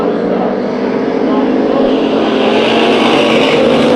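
A pack of race cars in a Bakersfield Speedway heat race drones loudly and continuously, the engine roar swelling gradually as the field battles for the lead.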